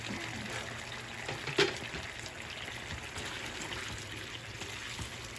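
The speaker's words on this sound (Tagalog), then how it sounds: "Dagdagan ko pa ng konting tubig mga kabeshi." Water trickles briefly into sweet and sour sauce for lapu lapu with pineapple, a faint, quiet stream with one small splash near the start and no voices.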